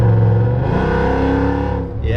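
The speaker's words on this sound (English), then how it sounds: "This car does, of course, have headers and quite a lot of exhaust modification, so that's quite a loud noise to it." A Mercedes ML 63 AMG fitted with headers and a heavily modified exhaust gives a loud, deep, sustained engine roar close by. The rumble swells and holds, then dips briefly near the end.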